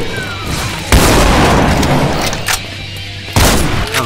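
Grenade blasts in Brutal Doom: two loud, close booms land a few seconds apart, each a sharp burst followed by rumbling debris and crackling gunfire-like noise.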